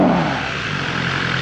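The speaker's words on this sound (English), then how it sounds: "Don't you just love the acceleration on this bike?" A BMW S1000R motorcycle engine accelerates with a loud, steady roar and broad rushing noise, heard briefly and close.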